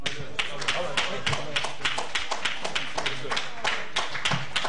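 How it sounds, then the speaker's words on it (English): Audience applause at a religious gathering for a regional minister, with separate, fairly sparse claps in an uneven rhythm and a voice speaking over them. "Keep that applause going"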